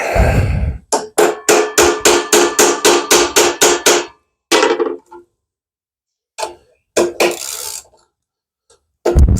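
A hammer strikes a socket onto a bolt head on heavy equipment undercarriage with a rapid run of about a dozen sharp metallic blows, then a pause and a few scattered hits, loud and close.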